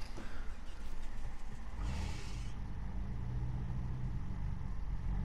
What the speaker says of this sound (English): Revs wise as well, it's got a bit more engine noise than usual.